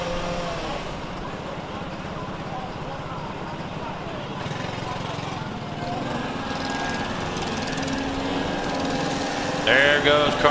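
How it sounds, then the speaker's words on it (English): Racing kart engines buzz steadily at a distance on a hot track during club race qualifying at Whiteland Raceway Park, a thin high whine that rises slightly toward the end with a brief louder burst. "There goes car 95, Tyler Hendrickson."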